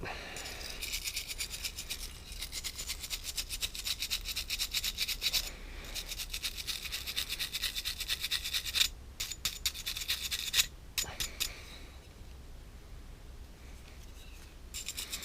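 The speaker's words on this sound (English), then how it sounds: "So maybe the wire brush has a chance of reaching into the narrow part." A wire brush scrubs inside the narrow section of a gas burner on an American Standard Silver Series furnace, giving a steady close scratching and rasping that runs almost continuously, with a few brief pauses.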